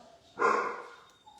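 Set off by a plane flying over a garden, a dog gives one close, loud bark that fades into quiet.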